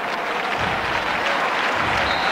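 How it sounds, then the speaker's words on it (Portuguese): Steady applause fills a football stadium as a substituted player leaves the pitch during an FC Porto versus Benfica league match in the 1994/95 season, a dense, continuous wash of clapping from a large crowd. "Este aplauso creio que são para Iura, no homem que saiu"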